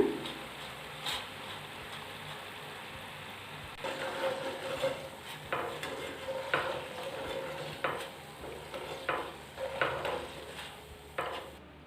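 Chakodilu dough snacks deep-frying in hot oil, a continuous bubbling sizzle close by, broken by several sharp scraping clinks as a utensil stirs and lifts them, with no talk.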